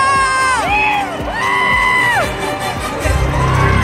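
Outside a cinema at a Ram Charan film release, a loud crowd cheers and shouts while shrill rising and falling whistles cut through, ending in a burst of rapid clapping.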